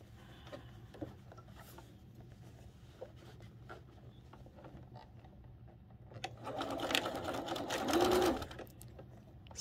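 A sewing machine stitches quilt pieces for a Wedding Ring quilt, with quiet intermittent needle ticking early on, then a louder, rapid run of stitching near the end, no voice heard.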